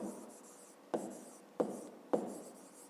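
A pen writes a number by hand during a fifth-grade maths exercise, three crisp scratchy strokes set apart by short pauses over a quiet room, with no talk.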